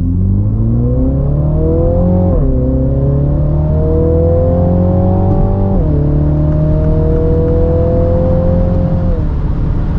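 A Mini Countryman JCW in sport mode accelerating hard, its engine note climbing steadily through several gears with two distinct drops at the shifts, loud and close throughout.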